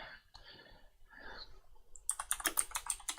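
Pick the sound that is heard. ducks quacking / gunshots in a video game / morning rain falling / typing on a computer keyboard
typing on a computer keyboard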